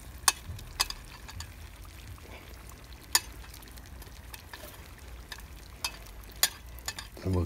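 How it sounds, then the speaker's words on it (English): Chicken curry with peppers stirred in a Petromax FT3 cast-iron Dutch oven over an outdoor wood fire: a low steady bubbling bed broken by a few sharp scraping clinks of the spoon against the pot, with no talk. "And we'll give that a bit of a mix"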